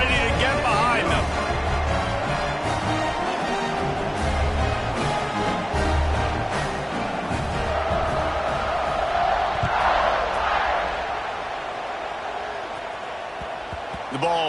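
A football stadium crowd just before kickoff after a touchdown and extra point: a broad, sustained roar of cheering and noise, loud throughout and easing slightly near the end, with a commentator talking over it.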